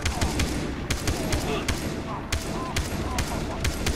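Rifle gunfire in the video game Far Cry 3, sharp shots repeating at an uneven, rapid rhythm, fairly loud and close throughout.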